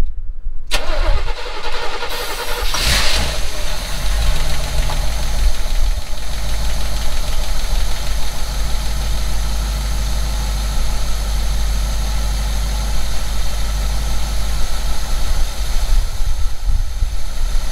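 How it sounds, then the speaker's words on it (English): A 1952 car engine cranks briefly on starter fluid, catches, and settles into a loud, close, rough idle with a steady low rumble and knocking that runs on for about fifteen seconds without talk. "All right, Colin, turn it over while you're hitting the gas."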